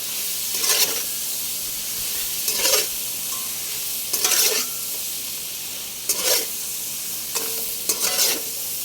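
Shrimp frying in a hot pan with butter and a chili pepper in San Juan, Batangas: a steady low sizzle broken by five loud bursts of stirring and spattering about two seconds apart, close by.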